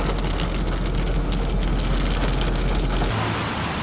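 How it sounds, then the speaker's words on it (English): Steady heavy rain pours down continuously in Louisiana, a dense hiss filling the whole clip with a low rumble underneath. "It's gonna be rain right now for a couple hours"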